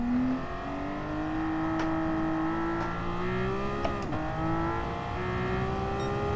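A modified 1995 Porsche engine under way, its whining tone rising and holding steady with a few small dips as the car accelerates and cruises, heard close and continuous.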